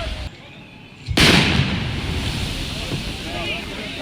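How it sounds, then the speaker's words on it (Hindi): A 150-foot chimney is brought down by explosives in a sudden sharp blast, followed by a loud, sustained roaring rumble that slowly fades, with outdoor wind noise throughout. "150 फीट चिमनी 8 सेकंड में केवल विस्फोटक के जरिए धराशायी कर दिया गया।"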